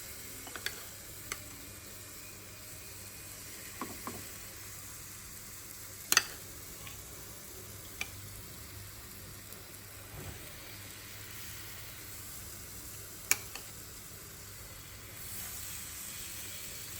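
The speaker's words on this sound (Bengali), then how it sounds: "সেই মাখানো ডিমটা আমি তাওয়াতে সেঁকবো।" Spiced egg cooking on a dry tawa griddle without oil, a faint steady sizzle under a few sharp scraping clicks of a utensil, with no talk.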